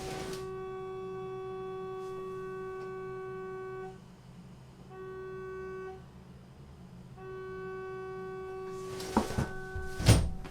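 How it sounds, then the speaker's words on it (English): A car horn sounding in a residential neighborhood, heard from indoors as a long steady tone that cuts out and restarts in several sustained blasts, followed by a few thumps and handling noises. "someone's car horn is going off in my neighborhood"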